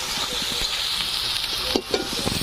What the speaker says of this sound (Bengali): তো চলো এটাকে ভালো করে ই করে নিই, কষিয়ে নিই।